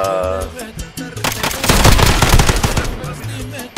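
Rapid automatic fire from an AN-94 rifle in a video game crackles in a loud sustained burst, with music and a voice underneath before and after.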